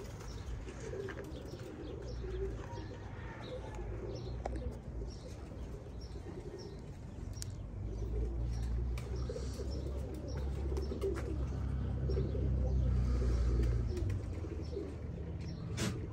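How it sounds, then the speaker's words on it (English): A kept kit of pigeons cooing softly amid a steady low rumble of background noise, with occasional faint chirps and wing sounds, no talking. "I'm playing with my birds."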